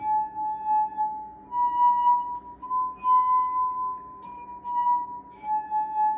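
Wet fingertips circle the rims of water-filled glass cups, a homemade glass harp, giving a pure, sustained ringing tone that swells and fades and steps between a few pitches, close and clear with no talk.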